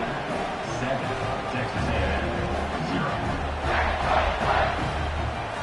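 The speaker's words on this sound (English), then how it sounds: "this crowd is buzzing after that last score" A virtual stadium crowd in the NCAA '26 college football video game buzzes after a score before a kickoff, a dense, sustained roar of cheering that swells slightly toward the end.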